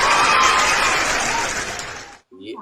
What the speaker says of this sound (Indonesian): Tepuk tangan dulu atuh